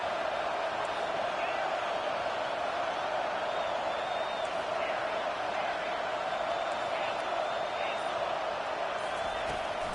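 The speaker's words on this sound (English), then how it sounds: "Decibels rising as the crowd gets behind this defense on 3rd down." Steady roar of a football stadium crowd during a third-down defensive stand, a dense wall of distant cheering and noise, while a commentator talks over it.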